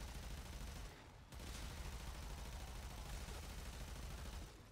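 Gunfire in the game Warframe, fired from a super powerful gun by a floating Zephyr: a dense, continuous stream of loud shots that drops out briefly about a second in, then resumes steadily with no talking.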